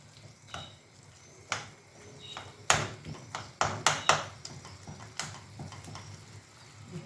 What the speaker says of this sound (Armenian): խառնում ենք